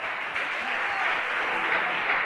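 A church congregation claps together during a service, a dense, steady wash of applause that fills the room for the whole stretch.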